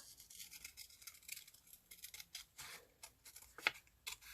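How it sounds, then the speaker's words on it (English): Scissors snip through paper for a collage, a quick series of crisp close cuts at an uneven rhythm, faint and with no talk. "so let's cut this out."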